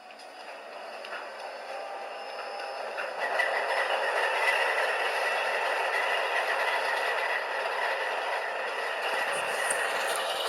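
Model Kato C44-9W locomotive with a DCC sound decoder plays a GE-style diesel start-up, a thin tinny drone that swells slightly after a few seconds and holds steady, faint and close.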